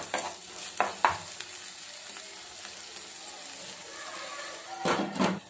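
Tomato sauce is stirred into homemade chaat in a pan: a few sharp spoon scrapes at the start and again near the end over a faint, low sizzle.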